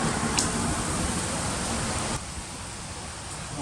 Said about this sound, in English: It's gonna be some heavy rain today.